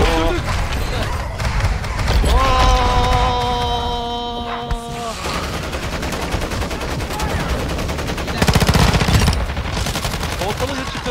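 Automatic gunfire in Warzone 2 zombies mode, with loud sustained bursts and a late heavy volley over game hum and tones while players talk.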